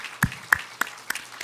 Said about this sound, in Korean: 우리가 위로와 격려의 차원에서 우리 박수로 보답하겠습니다